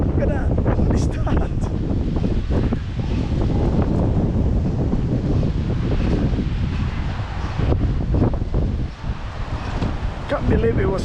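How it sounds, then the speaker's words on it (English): Strong, gusting wind buffets the microphone outdoors ahead of an approaching storm, a loud continuous roar that swells and eases throughout with no clear break. "It's just gusting."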